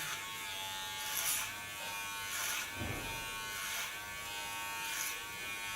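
An electric hair clipper buzzes steadily while cutting through very thick, strong hair during an ultra-short haircut, with a few louder surges as the blade works into dense sections; no one speaks.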